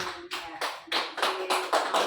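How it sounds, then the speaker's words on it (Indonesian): Short bursts of clapping from a small group in a classroom, coming in several uneven waves close to the listener, with a faint steady tone running underneath. "tepuk tangan buat Mbak Nur"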